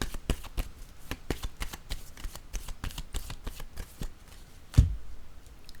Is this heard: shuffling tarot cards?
yes